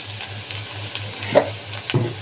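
Chopped onion frying and stirring in a pan, a steady close sizzle broken by a few louder scraping stirs toward the end, with no talking.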